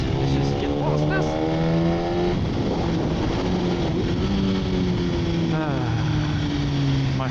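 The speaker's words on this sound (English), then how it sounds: "When I pull onto the highway now, I'm going to do a little pull now to slightly sketchy speeds." A BMW HP4 Competition motorcycle accelerates hard onto a highway, its engine note climbing through the gears with loud wind rush throughout, heard close from the rider's position with a voice talking over it.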